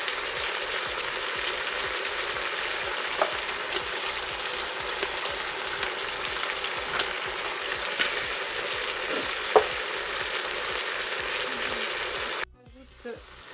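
Chicken browning in a pan with cinnamon stick, salt, pepper, paprika, turmeric and saffron for a carrot chicken tajine, a steady close frying sizzle crackling throughout, then cutting off abruptly near the end.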